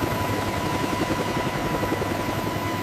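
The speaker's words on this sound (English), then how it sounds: "Helicopter ETA 2 minutes." A helicopter's rotor thumps loud and continuous, a dense pulsing roar that holds steady throughout without any talking.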